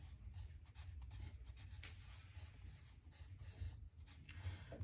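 Chalk or marker scratching steadily across a classroom board as a teacher writes Hindi words for a second-grade lesson, a continuous soft rubbing close by with no talk.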